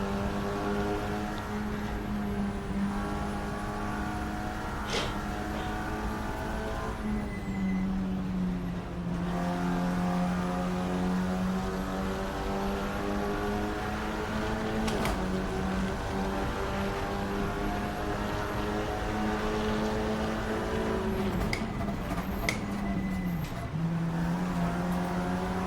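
Race car engines in the Assetto Corsa sim at Watkins Glen drone loudly and continuously, with pitch rising and dropping through gear changes and several cars' engines overlapping.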